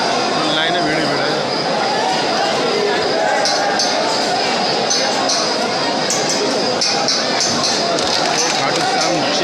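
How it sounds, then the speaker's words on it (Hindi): Crowd of devotees queuing in line at Khatu Shyam temple, a constant loud murmur of overlapping voices and shuffling, with occasional sharper knocks and clatters near the middle and end. "लाइन में भीड़ ही भीड़ है।"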